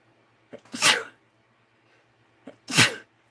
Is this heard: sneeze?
yes